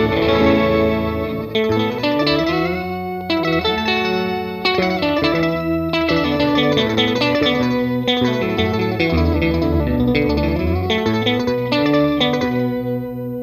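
Guitar played through an EarthQuaker Devices Organizer pedal turned up high, giving lush organ-like chords with echoing, delay-like repeats, played loudly and alone.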